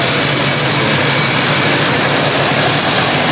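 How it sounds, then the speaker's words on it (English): A 1978 Chevy Malibu Classic with a swapped engine runs at a steady idle through dual exhaust, a loud, continuous and even roar close by that holds without a break. "so it pretty much starts right up on the dime. It runs nice and smooth"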